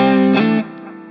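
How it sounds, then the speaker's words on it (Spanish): A Fender Stratocaster fitted with a humbucker pickup is played hard through a driven, distorted tone. One loud, thick chord rings out, swells briefly, then drops to a quieter sustain with no talking. "al tocar fuerte se siente ese drive que da la humbucker, que no lo da una single coil"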